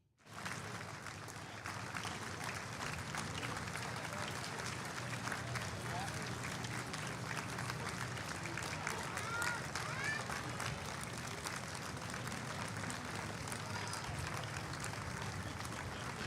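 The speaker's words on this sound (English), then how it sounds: "And you can hear a little bit of the crowd in the background as well." A crowd at the Baraboo Big Top Parade cheers and claps for marching veterans, a steady, dense wash of applause and crowd noise heard from a distance and sustained throughout.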